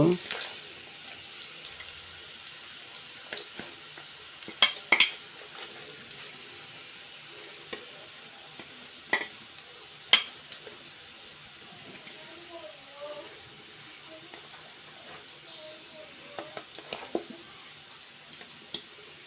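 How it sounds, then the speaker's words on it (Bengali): Chopped onion and green chili fry in hot oil with a low, continuous sizzle, punctuated by occasional sharp clicks and scrapes of stirring at irregular intervals. "পেঁয়াজ কুচি এবং কাঁচামরিচ কুচি করে রেখেছি এটা আমি দিয়ে দেবো এই তেলে ভেজে নিব"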